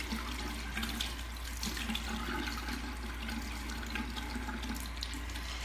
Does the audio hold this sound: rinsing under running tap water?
yes